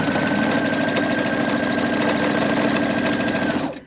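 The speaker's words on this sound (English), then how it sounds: "you want to sew directly over the lines that you have already sewed on. You're stitching." A sewing machine runs steadily while stitching over earlier seams along the bottom of a purse, a continuous mechanical whir with a rapid needle rhythm, close and loud for nearly four seconds before stopping abruptly.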